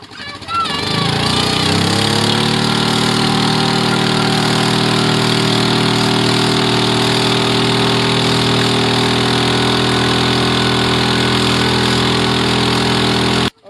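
A 2.3 gas outboard motor runs at 75% power while towing a dinghy, a loud, steady, buzzing engine drone that starts up in the first second and holds constant, close to the microphone.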